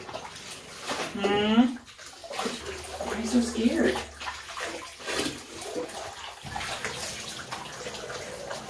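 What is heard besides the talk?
warm water running for a bath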